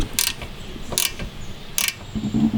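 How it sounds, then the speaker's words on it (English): A 12mm socket ratchet loosening the clamp bolt on a car's brake line, with three short bursts of rapid ratcheting clicks close up, separated by pauses and light handling noise. "just loosen this up and take out the little bolt that's holding it in"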